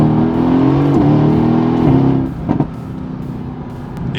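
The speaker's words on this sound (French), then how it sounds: "évidemment l'échappement sport, qui fait un bruit d'enfer" Mercedes-AMG GT S with sport exhaust revving hard through rising pulls with brief shift dips, then dropping to a burbling idle with a couple of sharp pops, loud and close.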